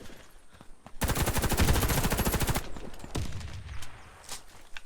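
Gunfire in the shooter game Warface: a fast, loud automatic burst lasts about a second and a half, followed by scattered quieter shots and clicks.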